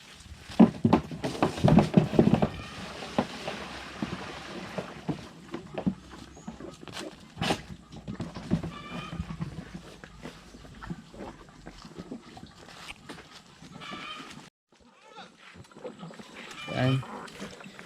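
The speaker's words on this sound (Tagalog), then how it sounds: "Nakita nyo naman kung paano talaga uminom kumain itong ating mga alagang kambing at ito ating mga alagang tupa." Goats and sheep slurp and chew molasses wet feed up close, with irregular feeding noises and a few bleats breaking through.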